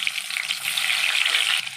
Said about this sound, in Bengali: ওই তেলে আলুগুলো দিয়ে দিচ্ছি ভাজার জন্য।